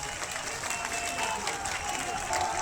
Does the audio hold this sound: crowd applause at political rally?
yes